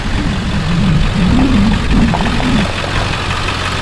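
A Chevrolet Silverado pickup's 6.2L V8 idles through a 4-inch axle dump exhaust, giving a loud, close, steady rumble with a lumpy, wavering burble and no voices.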